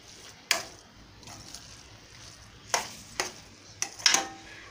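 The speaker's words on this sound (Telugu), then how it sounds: "బీట్రూట్ వేసి ఇలా తిప్పుతూ ఉండాలి" Grated beetroot is stirred in a pan over a low flame for carrot beetroot halwa, giving a few sparse, quiet scrapes and clinks of a spoon against the pan.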